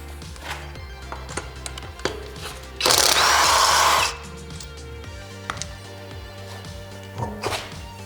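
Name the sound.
taking the wheel off an Infiniti G37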